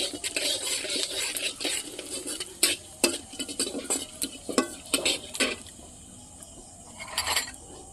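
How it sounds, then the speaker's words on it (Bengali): Cumin seeds frying in oil in a wok, a faint sizzle beneath repeated clinks and scrapes of a spoon against the metal, irregular and close, no talking. "কড়াইতে আমি তেল দিয়ে দিয়েছি সবজিটা ভালো করে ভেজে নেওয়ার জন্য। আর এখানে দেবো একটুখানি জিরে দিয়ে দিচ্ছি"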